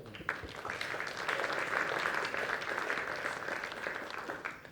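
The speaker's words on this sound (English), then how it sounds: "Please give a round of applause." Conference audience applauds a panel introduction, a moderately distant, even stretch of clapping that swells and then fades over about five seconds.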